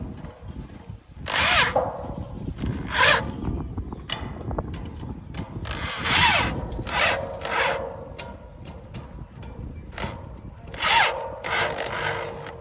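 A nut and bolt on a dish antenna mount is tightened by hand, giving repeated close scraping, ratcheting and rasping strokes in irregular bursts over a low outdoor background, with no talk.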